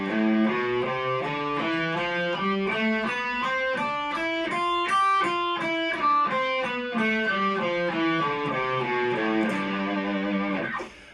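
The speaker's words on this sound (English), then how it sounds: "So that's the Mixolydian mode." Electric guitar with light distortion plays a Mixolydian mode scale, the major scale with a flattened seventh, ascending and descending in an even stream of single notes before fading out, no talking.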